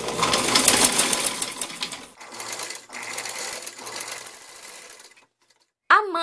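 Sewing machine stitching printed blouse pieces together, a steady close whirring run broken by short pauses and restarts, then a brief stop before a voice begins to speak.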